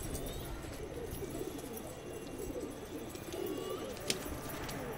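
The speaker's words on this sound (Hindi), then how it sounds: "ये हमारा मुर्गा कबूतर।" Pigeons coo softly and continuously at a distance, low murmuring calls under a steady background hiss, with one brief click near the end.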